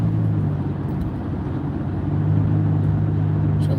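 Steady road rumble of a car cruising on a bumpy interstate, a continuous low engine and tyre drone with faint rattles, close and even throughout with no talk.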